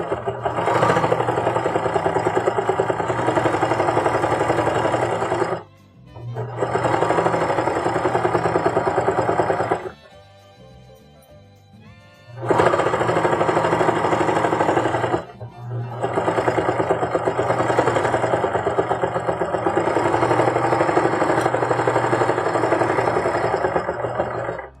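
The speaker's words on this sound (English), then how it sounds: "The noise from the serger get picked up by the mic" A serger sewing machine runs in steady, loud bursts while finishing a pickleball bag, a dense whirring mechanical drone in four long runs separated by brief pauses, close up with no talking.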